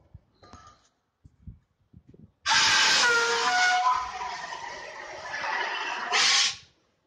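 A fire extinguisher discharging during an industrial fire-safety training demonstration, a loud steady hissing burst lasting about four seconds with a brief surge near the end, after a few faint knocks.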